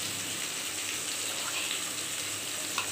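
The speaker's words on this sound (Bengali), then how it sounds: "ফেটানো ডিমটা এখন দিয়ে দেব।" Beaten egg hits a hot pan of fried snake gourd in a village kitchen, giving a steady, close sizzle that holds evenly throughout with no voices.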